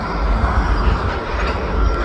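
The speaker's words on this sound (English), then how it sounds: "Just wanted to show you the train that runs parallel with the highway." A Kansas City Southern locomotive-hauled train runs beside a highway east of Kamloops, British Columbia, giving a loud, close, continuous rumble of rolling wheels and rail noise.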